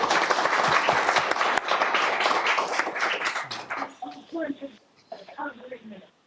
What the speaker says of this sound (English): We normally don't allow clapping, but we're going to allow it tonight.